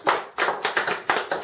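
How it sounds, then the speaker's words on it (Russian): Guests at a birthday party game clapping in short uneven bursts, several sharp handclaps close by with gaps between them and no talk. "Аплодисменты."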